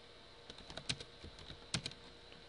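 Quiet keystrokes on a computer keyboard at a command prompt, a few scattered taps in two short clusters over a faint background, with no talking.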